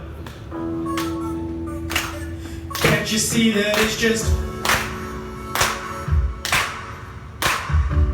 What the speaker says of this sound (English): Alright people, it's chance to clap now, let's go.